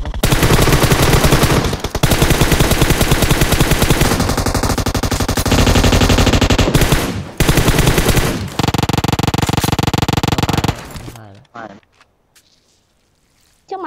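Heavy, sustained automatic gunfire from players shooting each other in PUBG Mobile, loud and nearly continuous in rapid bursts with short breaks, dropping away near the end to quiet.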